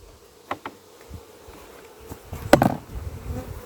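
Honeybees from newly installed bee nucs buzzing close by, scattered short flybys passing the microphone, louder and denser toward the end over faint handling noise.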